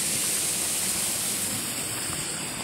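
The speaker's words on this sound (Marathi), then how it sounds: "हे बघा आवाज येतोय पाण्याचा" A river rushes near a Konkan hillside, making a steady, broad roar of flowing water that holds at an even level throughout.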